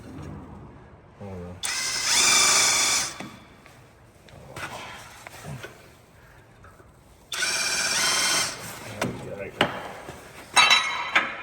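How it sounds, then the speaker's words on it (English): A power drill whirs in two sustained bursts drilling holes on an old Massey tractor, separated by quieter handling noise, close by, with faint clinks between runs. "Now drill these holes."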